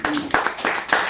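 A church congregation breaks into applause during a worship service, a brief burst of close, fairly loud clapping from many hands in uneven surges, with voices mixed in.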